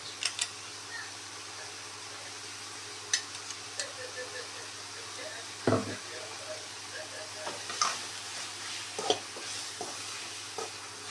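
Fenugreek leaves cooking with masala in a pan, a low continuous sizzle punctuated by irregular clinks and scrapes of a stirring spoon, with a heavier knock midway.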